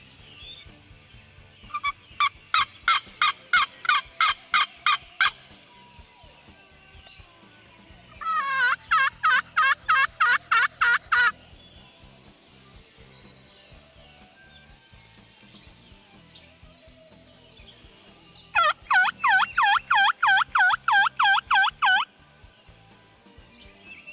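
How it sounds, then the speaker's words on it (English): A wild turkey gobbles beyond a tree line in three separate bursts of rapid, rattling gobbles, each lasting a few seconds, fairly clear against a quiet outdoor background with no talking. "Just heard a gobble on the other side of this tree line over here"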